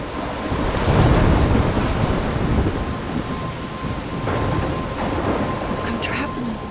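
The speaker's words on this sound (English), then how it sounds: "I'm trapped in a storm." Thunderstorm in the video game Life is Strange: steady heavy rain with low rolling thunder that swells early, fades, then rumbles again later, with some sharper splashes near the end.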